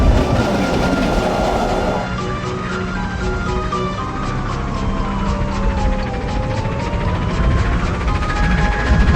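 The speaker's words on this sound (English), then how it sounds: "the miniature train rocked and swayed through the forest" A miniature steam train runs on rails through a forest, rocking and swaying with loud continuous rumbling, rhythmic clickety-clack of the wheels and faint squeals throughout.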